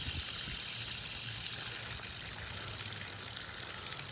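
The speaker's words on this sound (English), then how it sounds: "That's going to shut off after that water drains back down out of the system." Water drains back down through household plumbing after a newly installed main ball valve is shut off, a faint steady trickling wash that runs evenly for a few seconds with no one talking.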